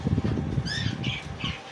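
Grey and white cockatiels with lovebirds squawking from breeding cages fitted with clay-pot nest boxes, several harsh squawks over a busy background of rustling, flapping and chatter, moderately close.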